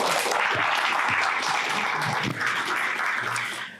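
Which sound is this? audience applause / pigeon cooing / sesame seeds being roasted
audience applause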